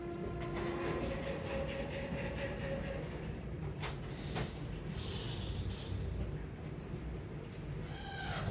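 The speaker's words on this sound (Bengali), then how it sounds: "ট্রেন আমাদের ছেড়ে দিল মালদা টাউন" Train rolling along the rails after leaving Malda Town toward Barsoi on the way to Darjeeling, a loud steady rumble from inside the carriage with rhythmic wheel clatter and a few sharp metallic squeals.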